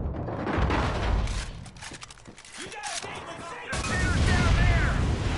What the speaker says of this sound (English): Fucking rockets!